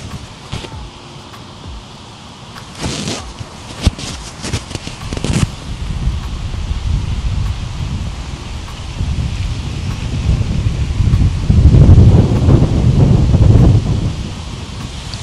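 Wind blowing outdoors in Finland, a steady broadband rush with deep, buffeting low rumbles that swell toward the end, mixed with scattered rustles and brief crackles; loud and close, with no speech.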